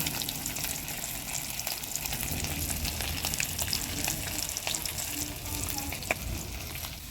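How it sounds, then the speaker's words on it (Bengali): Three hilsa fish fry in hot oil in a pan, a steady dense crackling sizzle that runs continuously at moderate loudness with occasional sharper pops, no speech. "তিনজনের জন্য 3টে ইলিশ মাছ ভাজা রান্না করছি দেখো।"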